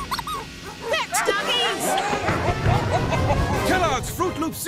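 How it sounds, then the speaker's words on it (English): Dogs barking and yipping in a Kellogg's Froot Loops cereal commercial, short excited barks and whimpers mixed with people talking and background music. "Doggies!"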